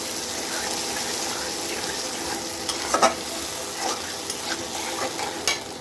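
Sauce hisses and sizzles steadily in a hot pan over fried onion and tomato for gravy masala chicken, close and continuous, broken by a few stirring scrapes and clinks.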